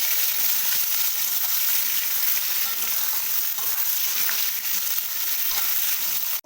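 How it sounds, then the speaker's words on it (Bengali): Cut potatoes and eggplant fry in hot oil in a pan, giving a dense, steady sizzle that stays loud and even from start to finish, without any talking. "আলু আর বেগুনকে ভেজে নিতে হবে"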